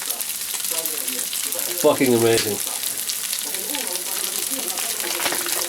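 Sausage sizzles in a frying pan, a steady crackling hiss that runs throughout while a person talks briefly over it near the start.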